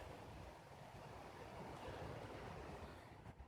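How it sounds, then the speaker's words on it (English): Waves wash continuously onto a Lake Superior sand beach on a windy day, a steady broadband rush with wind buffeting, fairly quiet and without speech. "it's going to be nice to be lulled by those waves"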